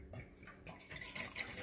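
Water trickles and splashes as it is poured into a can while cooking crockpot verde pulled pork, a faint, short, continuous liquid gurgle heard close up.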